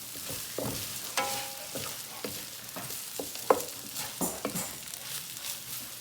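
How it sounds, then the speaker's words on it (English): Onions for shrimp fried rice fry in a pan over raised heat, a steady crackling sizzle broken by scraping stirs and a few sharp utensil clinks, fairly close and with no voices. "I'm going to turn this up a little higher to get a good fry going."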